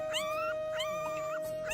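Newborn puppies whimper in high, wavering cries that repeat in a loose rhythm, close and soft over a steady background hum, with no talking.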